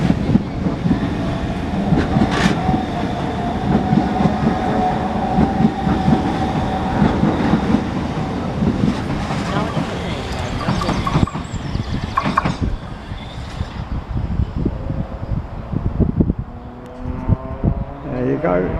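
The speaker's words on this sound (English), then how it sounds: "This is our train now departing. It's going to Margate." A train pulls out of Ashford station bound for Margate, its rumble and wheel clatter rolling steadily past the platform at close to middle distance before starting to fade toward the end.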